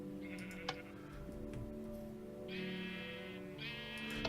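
Sheep bleat in the video game Thaumaturge, two drawn-out calls over a steady tonal game music bed, with a brief earlier bleat near the start; fairly close and clear, no talking.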